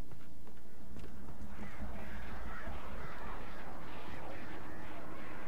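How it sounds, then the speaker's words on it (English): Agitated crows in the Alan Wake video game caw repeatedly in a noisy, overlapping flock, moderately loud against a dense ambient background. "Well, those birds sound pissed."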